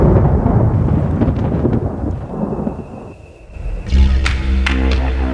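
Heavy thunder rolls through a powerful tropical storm in northern Australia, a long sustained rumble that dips briefly and then surges back with sharp, louder cracks near the end.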